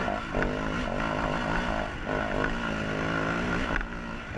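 A motorcycle engine drones steadily at high revs, a continuous loud mechanical roar with slight rises and dips, like a racing game sound.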